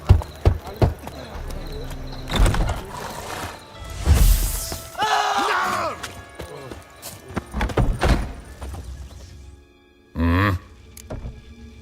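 Hooves of the horse Roach clatter in rhythmic clip-clop bursts in The Witcher 3, with a brief whinny-like burst near the end, over game music and effects while voices talk.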